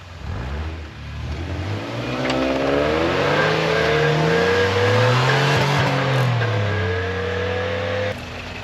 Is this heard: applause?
no